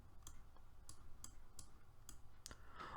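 Computer mouse clicks while a user drags around an interactive map, about six crisp clicks at a steady, roughly half-second rhythm, close and quiet with no talk.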